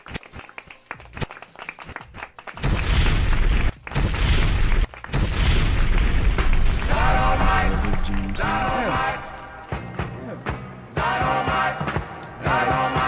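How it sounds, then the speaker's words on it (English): A bomb explosion sound effect, with deep booming blasts and rumbling bursts that repeat in a loud, dense sequence, brief gaps between the first few hits. "Drop the bombs."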